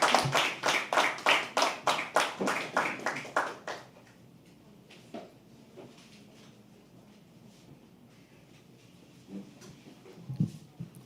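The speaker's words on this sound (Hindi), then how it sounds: "एक बार जोरदार ताली से स्वागत कीजिए" At The Habitat Studios, an audience gives a performer a welcome of steady, rhythmic clapping for about four seconds. The claps then fade to a near-quiet room with occasional small knocks.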